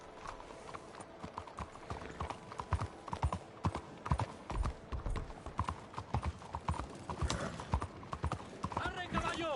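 Horse hooves clip-clop in a steady walking rhythm in Red Dead Redemption 2, close and clear, with a brief whinny near the end and voices speaking over the hoofbeats.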